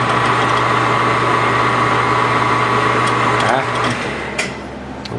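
A drill press runs a spot drill into a Stirling engine hot cap, making a steady close mechanical whir that shifts and dips near the end, with a faint sharp tick after it.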